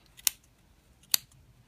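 Two crisp scissor snips through yarn about a second apart, close and sharp against a quiet background.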